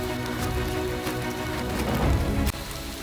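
Rain falls steadily on the forest along the Bukit Raya mountain trail in Central Kalimantan, a dense, even hiss of drops on leaves with a sudden short knock near the end.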